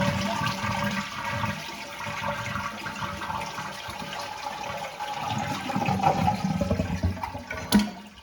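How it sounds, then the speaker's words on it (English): A toilet flushing as its tank is drained during a lever and flapper replacement, a gushing rush of water that swirls and gurgles, rising near the end with a brief clunk, close by and without talk. "Drain the water from the toilet tank."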